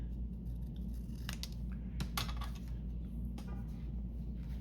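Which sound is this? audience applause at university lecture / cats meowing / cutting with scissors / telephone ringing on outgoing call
cutting with scissors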